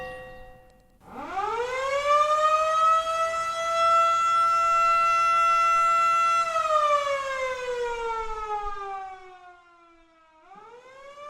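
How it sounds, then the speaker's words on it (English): A fire station's civil defense siren, sounding in a weekly test, winds up to a loud, sustained wail, holds, then falls away before beginning to rise again; no voices. "There was also a ritual at 1 p.m. every Sunday when the siren was tested."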